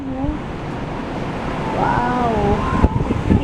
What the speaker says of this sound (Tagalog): Pag nakabukas yung balcony namin, tapos nakabukas yung pintuan, ang lakas ng hangin dito.